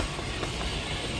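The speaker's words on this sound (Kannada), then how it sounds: "ವಂದೇ ಭಾರತ್ ಟ್ರೈನ್ ನೋಡಿ." A Vande Bharat express train rolls past nearby, a broad, steady roar of wheels and rushing air with faint rhythmic clatter, loud and unbroken through the brief moment.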